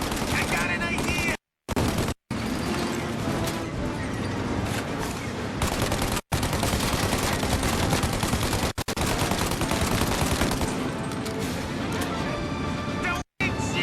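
Rapid gunfire fills the Mafia Definitive Edition game scene: dense, loud bursts of shots and impacts run almost continuously, broken by a few brief silent gaps, with voices shouting over the shooting.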